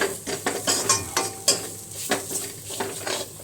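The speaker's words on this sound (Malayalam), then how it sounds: "നമ്മുടെ പൊടിയുടെ പച്ചമണമൊക്കെ മാറ്റി നന്നായിട്ടൊന്ന് വഴറ്റിയെടുക്കാം" A spoon stirs and scrapes spice powder frying in a pan for crab curry, with repeated rhythmic clinks and a soft sizzle underneath, close and fairly loud.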